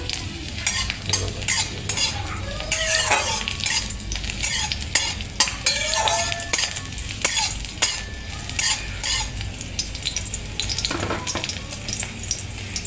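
Garlic and green chillies fry in hot oil for a pumpkin-leaf bharta, giving a steady close sizzle broken by frequent scraping and clinking as a utensil stirs the pan, with no talking.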